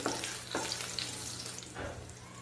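Green chillies, slit lengthwise, sizzle and fry in hot oil with garlic turned light pink, a steady close crackle with a few brief stir scrapes and no voices.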